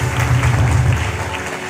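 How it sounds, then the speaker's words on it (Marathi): Listeners at a Shrimad Bhagavat Katha gathering in Kamkheda applaud the performers of a Krishna and Sudama tableau, a dense, close burst of clapping over a low hum from the sound system. "टाळी वाजून स्वागत करतो"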